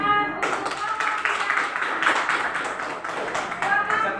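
A classroom of students at an Islamic secondary school gives scattered, moderately loud applause for a presenting student group, with rapid uneven claps throughout.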